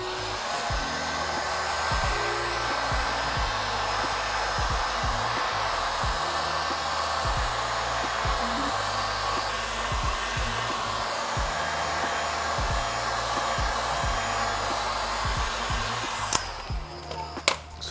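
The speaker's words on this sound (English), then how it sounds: "start heating these up with our heat gun on the highest setting" A heat gun running on its highest setting blows steady, loud broadband air while warming Vicrez paint protection film on a car's front fender. The whoosh holds constant for most of the stretch, then cuts off near the end with a few faint handling clicks.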